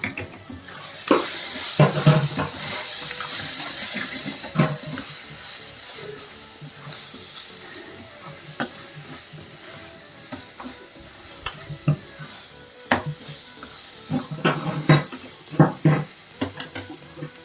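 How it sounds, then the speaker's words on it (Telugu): A spoon stirs cabbage and moong dal curry with chili powder in a pan, making irregular scraping and clinking strokes over a soft sizzle, with louder bursts of stirring near the start and end. "రుచికి తగినంత కారం వేసి కలిపేసుకుందాం"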